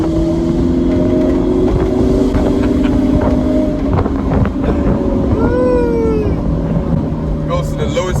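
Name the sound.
BMW 1 Series E88 accelerating hard on kick-down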